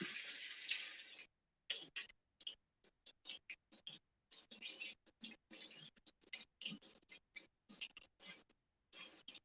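Running tap water splashing in a home kitchen as a dish is given a quick rinse, coming in uneven bursts of spray that start and stop repeatedly, close and moderately loud, with no talking.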